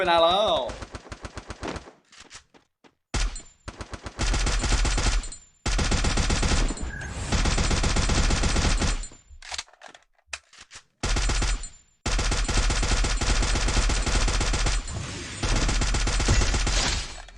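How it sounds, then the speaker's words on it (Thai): Rapid automatic gunfire in a shooting video game, loud and close, arriving in long sustained bursts broken by brief gaps, with a voice talking in between. "เรารู้ว่ามันยิงนายอยู่"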